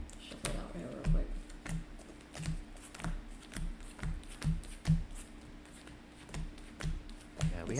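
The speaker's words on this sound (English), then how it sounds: "Shuffle it out here real quick." A deck of Star Wars Unlimited cards being shuffled at a gaming table, giving a string of quiet, rhythmic riffling taps under a low hum, with no one talking over it.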